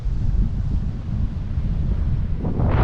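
Strong gusty wind buffets the microphone on a stormy sea coast at Anapa, a loud continuous low roar with surging gusts and faint surf beneath.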